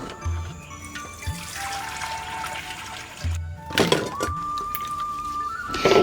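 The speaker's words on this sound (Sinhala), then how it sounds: "පොතු ඉවත් කරාට පස්සේ මම ආපහු මේ ටික හොඳට හොද ගන්නවා." Peeled cassava is washed in water, with splashing, swishing and trickling in bursts, moderately close and fairly soft, separated by short pauses.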